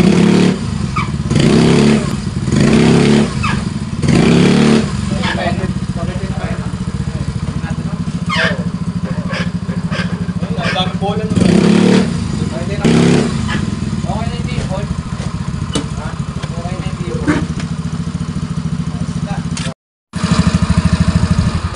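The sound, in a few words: Yamaha Mio Soul i 125 motorcycle engine idling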